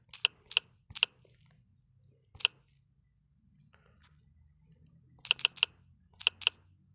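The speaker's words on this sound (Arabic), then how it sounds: "انا بكتب الارقام دي مثلا على الحاسب عادي" Keys on a Casio fx-991 scientific calculator are pressed in short, crisp clicks, some single and some in quick runs of two or three, separated by quiet pauses, close and without speech.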